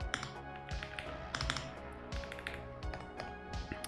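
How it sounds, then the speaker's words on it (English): Spacebar presses on a WhiteFox Eclipse high-profile mechanical keyboard: a run of close, distinct clacks at an uneven typing pace, each a sharp tap with a brief hollow ring, alone without talk. "when you hit the spacebar, you can hear the difference"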